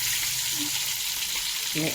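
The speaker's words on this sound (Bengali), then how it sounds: "আমি একটা একটা করে মাছ ছাড়বো কেমন। মাছটা লাল করে ভাজবো।" Fish pieces fry in hot oil with a loud, continuous close sizzle and crackle that holds steady throughout, with no talking.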